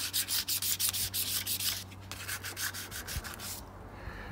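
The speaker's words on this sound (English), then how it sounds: "This is a sanding off of the surface crud." Rhythmic back-and-forth scraping of sandpaper on a vintage Sparta 3-speed bicycle frame, sanding off paint, close and steady, in quick regular strokes that slow and fade near the end.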